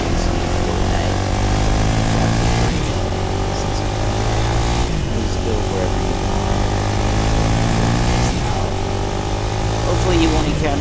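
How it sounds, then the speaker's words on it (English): Crackshot Quadcrasher engine in Fortnite, a steady loud motor drone with shifting pitch as the vehicle drives across winter terrain, running continuously with game effects layered over it. "jump on one of those quad crashers, and start driving"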